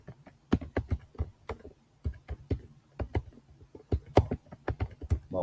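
Quick bursts of clacking keystrokes on a computer keyboard typing a search, crisp close taps in uneven runs with short pauses between them, no speech.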